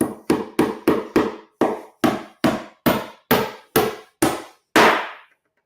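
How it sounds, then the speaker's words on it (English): A hammer drives a nail into cured floor leveler with about a dozen sharp, evenly spaced blows, close and loud, the last strike ringing out a little longer before silence. "Or you can even hammer a nail."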